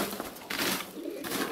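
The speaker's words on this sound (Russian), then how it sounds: "Сильные голуби." Pigeons coo softly and repeatedly nearby amid rustling and faint background noise, their low throaty calls overlapping.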